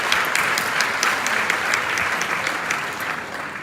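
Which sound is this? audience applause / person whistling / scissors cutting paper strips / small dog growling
audience applause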